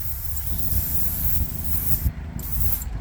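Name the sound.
spray gun spraying paint on custom Camaro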